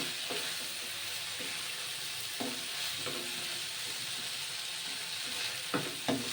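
Roasted coconut, peanut, cumin and coriander masala sizzling with capsicum in a pan, a steady soft frying hiss broken by a few faint clinks and stirring scrapes.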